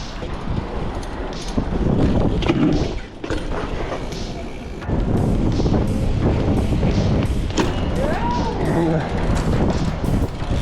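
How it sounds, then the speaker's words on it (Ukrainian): Strong wind buffets the microphone with constant roaring gusts and rumble, nearly unbroken throughout, with no talking heard. "Тут серед цих бодєвів дуже сильний вітер, то мене тупо здуває"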